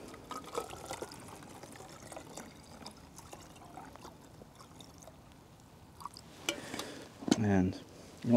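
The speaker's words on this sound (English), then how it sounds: "you just pour it in." Water is poured into a sample bottle for water quality monitoring, a soft trickle and splash building to a louder gush near the end, with faint outdoor background noise throughout.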